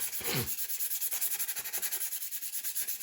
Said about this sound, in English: Just doing some sanding.